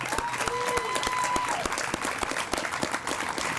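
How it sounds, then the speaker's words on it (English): Dense applause from a crowd at a Memorial Day ceremony honouring World War II veterans, steady throughout with sharp individual claps standing out and a brief tonal whine early on. "Give them a round of applause."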